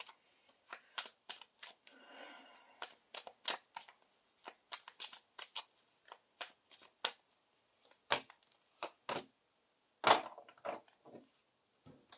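Tarot cards are shuffled in quiet, crisp bursts of riffling and slapping, irregular and close, with brief pauses between handfuls.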